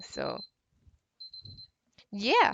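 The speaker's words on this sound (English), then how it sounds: "Oops, that was my alarm." A repeating electronic alarm beeps as a steady high tone at the start and again mid-clip, with a short talking voice between and a louder voice at the end.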